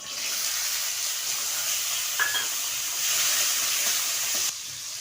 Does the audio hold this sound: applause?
no